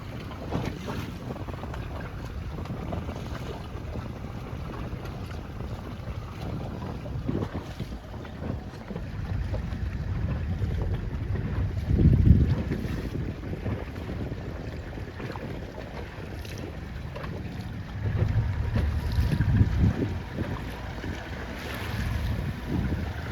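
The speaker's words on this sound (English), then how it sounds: "Windy" Strong wind roars across a sailboat racing in a C420 regatta, a constant broadband rush with gusting swells and water noise, loud and close with no voices.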